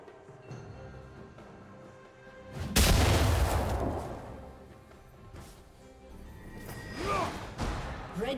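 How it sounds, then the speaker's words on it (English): A single heavy crash booms as a turret is destroyed in League of Legends, then rumbles and fades under quieter game effects. "Red team's turret has been destroyed."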